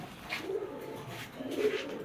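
Spanish pouter pigeons coo softly, two or three low, rounded calls spaced across a quiet background, close and fairly faint.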